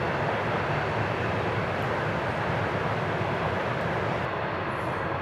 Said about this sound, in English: These American-made, loud AF trains that is doing its job